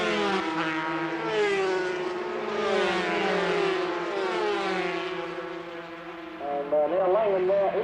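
Marlboro Clubmans race cars screaming around Silverstone's Abbey corner in 1983, a high-pitched engine whine rising and falling as cars pass, with a race commentator talking over it throughout.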